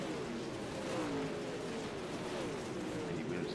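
Race car engines from the iRacing sim, in a league race, whine and rise in pitch as cars pass and accelerate. The engines are faint and continuous, with a voice talking over them.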